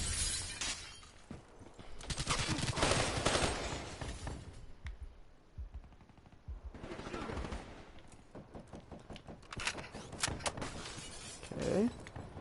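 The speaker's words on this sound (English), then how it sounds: "I'm gonna throw a grenade over there." A grenade explosion in a video game: loud crashing, shattering bursts with sharp gunfire-like cracks, coming in several waves separated by quieter gaps, with no voices.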